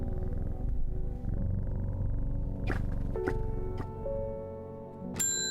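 Cat purring in the video game Strange Horticulture, a steady low continuous rumble that goes on for several seconds over background game music, ending with brief brighter clicks.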